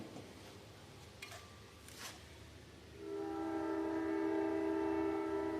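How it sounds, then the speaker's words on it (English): A train passes through a town, with a couple of faint knocks before a sustained horn sounds from a moderate distance and holds steady to the end. "Train's coming through town"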